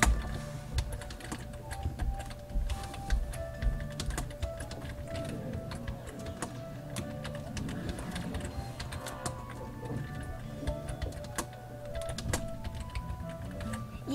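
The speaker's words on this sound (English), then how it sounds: "let me type and answer that question" Keys clatter in a steady run of quick taps on a computer keyboard, close by and fairly quiet against a faint background hum, with no voices.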